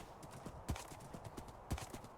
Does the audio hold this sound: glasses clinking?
no